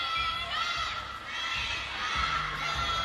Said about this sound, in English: The crowd was singing Yingsha